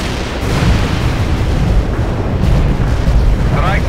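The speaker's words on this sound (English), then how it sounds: "Artillery strike." A Soviet artillery strike pounds the ground in World in Conflict, a dense, continuous barrage of loud booms and rumbling blasts that runs through the whole stretch.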